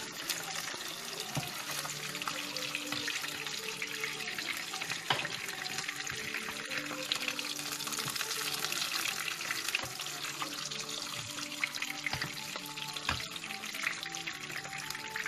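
Fish braising and frying in a tilted pan, a steady loud sizzle with watery crackle running continuously throughout.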